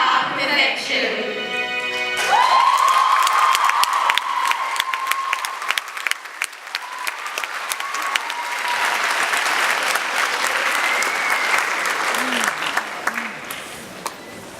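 Audience applause for the BC Blossoms, sustained clapping from a crowd that swells and holds steady, with a sustained tone and some voices mixed in near the start.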